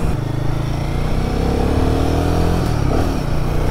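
Royal Enfield Guerrilla 450 motorcycle engine pulling hard under acceleration in second gear, a loud, close, steady rumble with rising harmonic tones and no talk.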